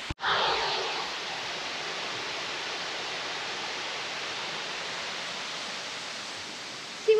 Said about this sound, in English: And the sound of water, the waterfall behind me.